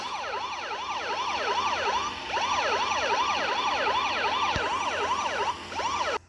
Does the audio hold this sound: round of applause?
no